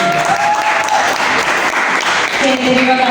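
A group of students introducing themselves is cheered by an audience applause that fills the whole stretch, dense and steady, with voices and a tonal sound woven in underneath.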